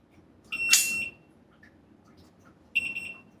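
Two electronic alarm beeps, a long piercing tone followed after a pause by a shorter one, over a quiet background.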